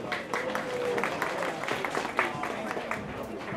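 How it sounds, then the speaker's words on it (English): Crowd at a cosplay contest final claps and cheers in a loose, sustained wash of applause, with a few stray voices and a sharp whistle-like note rising over it. "So give him a big round of applause."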